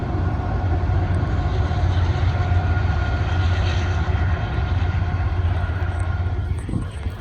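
A coal train hauled by red locomotives, with more locos mid-train and at the rear, rumbles steadily around a curve out of sight behind trees, a loud sustained low drone of engines and rolling cars that holds without a break.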